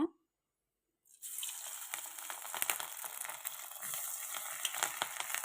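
Small cut idli pieces drop into hot oil and fry with a loud, steady crackling sizzle that bursts in suddenly after a brief silence and keeps bubbling throughout.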